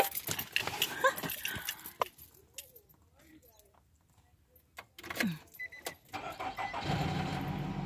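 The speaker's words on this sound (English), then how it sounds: "So I'm gonna start my car" A car engine cranks and catches after some jangling and thumps, settling into a steady idle near the end, recorded outdoors on a snowy spring day in New York.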